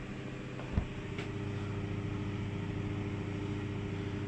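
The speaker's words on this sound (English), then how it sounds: "the compressor noise was proper loud, so I made this box and noise gone down" A 100-liter air compressor running inside a homemade noise-reducing box, a steady muffled motor drone with a constant low hum, even and unbroken apart from a brief knock near the start, no voices.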